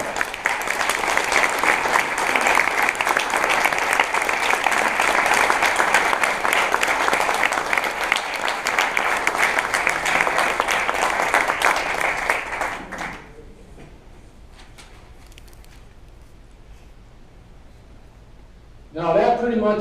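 An audience claps for military veterans standing at a high school 50th reunion, a loud, sustained round of applause lasting about thirteen seconds before it cuts off to quiet room tone, with a brief burst of noise at the end.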